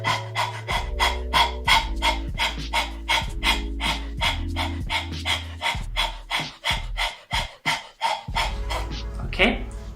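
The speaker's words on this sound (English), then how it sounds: "Put your tongue outside and let's start to breathe" Rapid rhythmic panting breaths with the tongue out as a throat exercise, a steady string of short close in-and-out puffs that slows and breaks up near the end.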